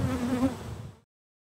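Honey bees buzzing around hives in an outdoor bee yard, a close, dense, steady droning hum that cuts off abruptly after about a second.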